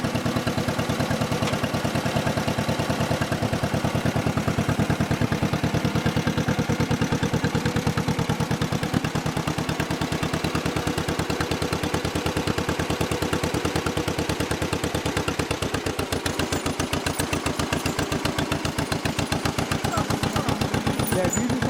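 A tractor engine runs steadily at a held pace, its dense rapid chugging clatter continuous and fairly close, with no voices over it.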